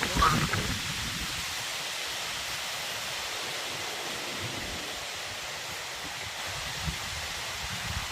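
Strong wind sweeping through trees around a village house with palm and coconut trees, a continuous broad rushing roar with rustling leaves, steady and loud.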